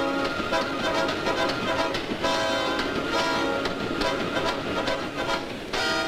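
A 12-car diesel-electric train, two 6-car units with an engine at each end, rumbles along steadily with a rhythmic clatter of wheels over rails, loud and close, with no voices.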